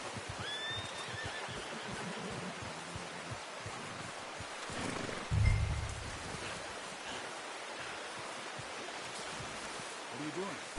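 A horse whinnies in the Red Dead Redemption 2 video game, brief high neighing calls near the start and end over a steady ambient outdoor wash and a low thump midway, with talking at times.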